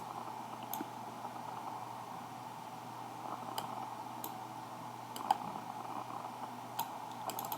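Light, scattered clicks of typing on a computer keyboard, irregular and fairly faint over a steady hum, with a few sharper keystrokes standing out.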